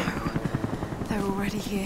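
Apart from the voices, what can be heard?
helicopter in the video game Rise of the Tomb Raider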